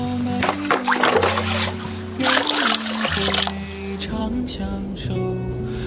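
Water poured onto glutinous millet in a container for soaking, a steady close trickle and splash that runs throughout with shifting tone, while background music plays.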